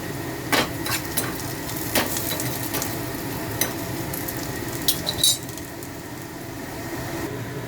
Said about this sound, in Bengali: তাই আলুটা একটু ভেজে নিচ্ছি।